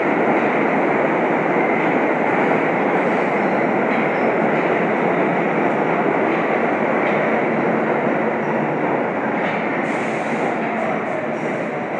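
A train rumbles past continuously, a loud, steady roar of wheels on rails with faint clacking and a brief high squeal near the end.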